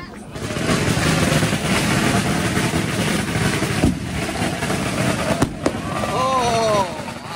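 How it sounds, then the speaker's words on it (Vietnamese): Firecrackers bursting at a temple on Lunar New Year's Eve, a dense loud crackling barrage with a few sharp bangs and a crowd talking underneath, ending with a descending whistle. "Năm nay cuối tuần cho nên được coi đốt pháo."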